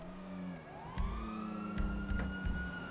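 A police car siren in a video game police chase after a store robbery wails and sweeps upward, holding a steady moderately loud tone with a few dull thumps underneath and no talking.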